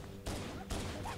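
Gunfire in the video game Halo: Combat Evolved, two short broadband bursts of shots a fraction of a second apart, quiet and slightly distant, with no speech.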